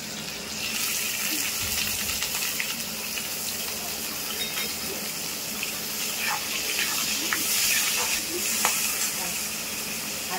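Whole cumin, onion and green chili fry in a pan with a steady loud hiss and scattered crackles that swell midway, while a voice talks faintly over the cooking.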